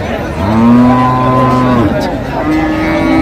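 Several dairy cows and calves at a cattle market in Dinajpur, Bangladesh moo loudly and closely, long low drawn-out calls overlapping one another, with a fainter moo following after a brief pause.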